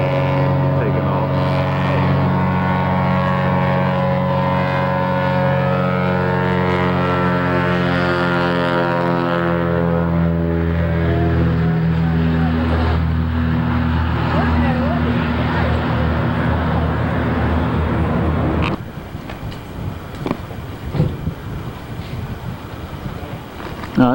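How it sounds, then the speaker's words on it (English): A float plane near Anchorage roars with a steady droning engine tone that holds strong and rises, then drops away abruptly into quieter rumble and background noise as it departs. "Here's a float plane taking off."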